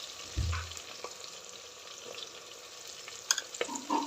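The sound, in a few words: ginger and green chillies frying in a pan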